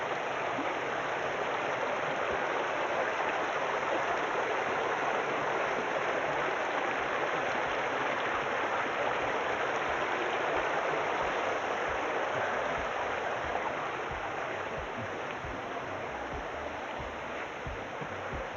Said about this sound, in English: I will talk a little bit louder now because the sound is getting stronger of the water